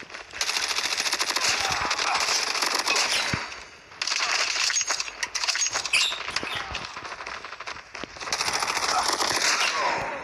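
Rapid automatic gunfire from a Call of Duty free-for-all match crackles in three long dense bursts, loud and close, separated by brief lulls with scattered single shots.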